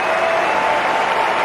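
Cricket crowd at Melbourne applauding Michael Clarke's fifty during an Australia–New Zealand one-day international, a steady wash of clapping from a large stadium crowd, dense and sustained throughout.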